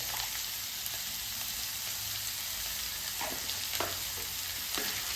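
Vegetables being fried and stirred in a pan for north Indian style poha, a steady hiss of sizzling oil with a few louder scraping stirs toward the end, no voices.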